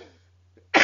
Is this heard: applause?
no